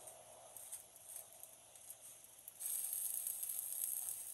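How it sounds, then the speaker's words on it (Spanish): Tomatoes roast on a sheet of aluminum foil over a hot comal, giving a soft sizzle that jumps to a louder, steady hiss partway through, with faint crackles and no voices. "Voy a poner un pedacito de papel de aluminio para poner a asar los tomates."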